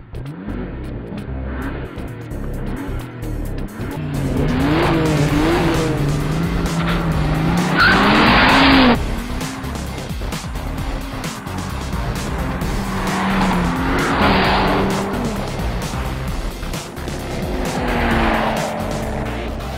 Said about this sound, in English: The Audi's first off the line, its all-wheel drive providing massive traction advantage over the BMW